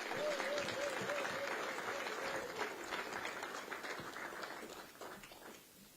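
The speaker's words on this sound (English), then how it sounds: "Hand of applause as they approach the table." Audience applause fills the hall at a tourism policy launch as ministers approach the top table, steady and dense at first, then tapering off toward the end, with a faint tonal sound drifting over it early on.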